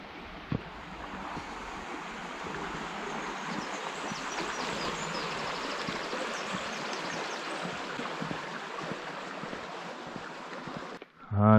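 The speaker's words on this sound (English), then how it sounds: "Sounds like a river." Steady rushing water of a river heard from a summer morning walking path in the English countryside, a continuous broadband flow that stays even and moderately close, with faint wind mixed in and no talking.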